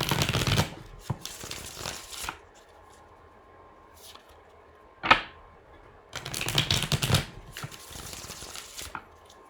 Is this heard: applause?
no